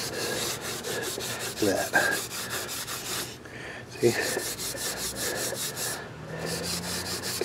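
A Scotch-Brite pad scrubs the rusty surface of a Craftsman lathe's four-jaw chuck, giving close, steady abrasive rasping in repeated strokes, with a brief spoken remark partway through.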